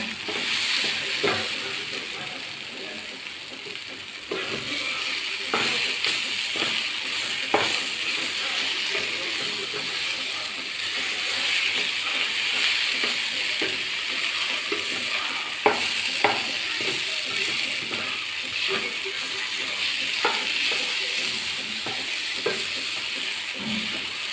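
Beef filling being stirred with black pepper powder in a hot pan, a steady sizzling hiss with scattered scraping stir clicks running throughout, no talk.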